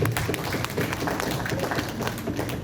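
Audience applause at a commemorative gathering, a dense steady patter of many hands clapping at moderate volume throughout, with no pause.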